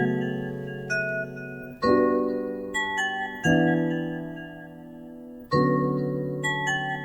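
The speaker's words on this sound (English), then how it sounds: "I'm going to call it a bell out of a wine glass" A synthesized bell one-shot built from a wine glass sample, struck several times in a slow sequence, each bright ringing tone decaying gradually before the next hit, clear and alone.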